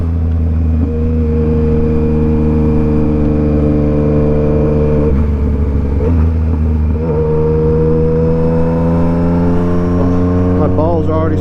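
A Yamaha MT-09 motorcycle engine hums steadily while riding along a road by the beach, a loud, close, constant drone with slight pitch shifts as the throttle changes and wind rushing past.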